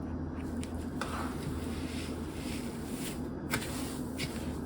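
A spoon works through stiff cookie dough loaded with coconut and sesame seeds in a bowl, making soft, steady scraping and dull thuds with a couple of brief clinks, close and fairly quiet.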